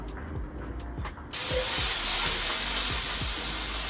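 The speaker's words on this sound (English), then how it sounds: "we add our onion, a little bit of salt and some black pepper" Onion tossed into a pan of browning meat for empanada filling: a few clicks at first, then a sudden loud, steady sizzle that hisses on continuously with faint scraping beneath.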